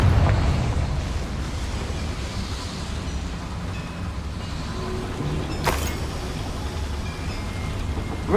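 A Confringo blasting-spell explosion in the Hogwarts Legacy video game, a deep rumbling boom that tails off into a long roar, with a sharp crack partway through.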